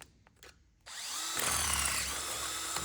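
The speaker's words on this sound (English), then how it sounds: "I'm gonna go ahead and drill a hole on the top of this and see if we can put it around the injector" A power drill bores a hole in a copper pipe fitting meant to go around the injector on an old Fiat. After some quiet handling noises it spins up to a close, steady whine with grinding bite.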